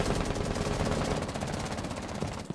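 Sustained automatic gunfire in Rainbow Six Siege: dense, rapid bursts of shots rattle on loudly and continuously for a couple of seconds, with a brief drop at the end and no talk over it.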